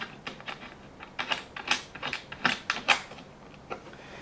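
Unscrewing a screw on an MT 1501 15-needle embroidery machine produces a run of small, close, uneven clicks and ticks from the tool and metal parts, quiet and with no voices.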